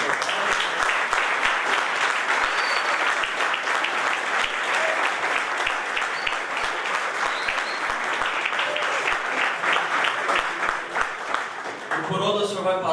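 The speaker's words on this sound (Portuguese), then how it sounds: "Uma salva de palmas e muito agradecido." Sustained applause from an audience after a lecture on political reform, a dense and even wash of many hands clapping that continues for several seconds, with a voice entering near the end.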